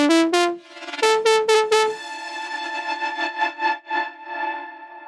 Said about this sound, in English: You can also pitch the reverb 12 semitones up